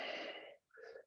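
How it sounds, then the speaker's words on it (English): Breath drawn audibly during an Ashtanga vinyasa yoga class, a long airy exhale followed after a short pause by a quicker, hissing breath, close and fairly loud. "Breathing."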